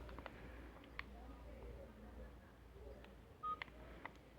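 A Nokia 3510i phone sounds a handful of short keypad tones at irregular intervals as a PIN is entered, faint and close in a quiet room.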